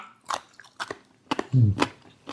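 Crisp, crunchy bites and chewing of large cannonball jellyfish, several close sharp crunches in quick succession.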